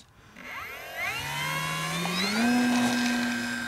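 A Durafly Prime Tundra electric RC STOL trainer with flaps deployed spins up for takeoff, its motor whine rising steadily in pitch and holding a loud, close, sustained tone with no talking.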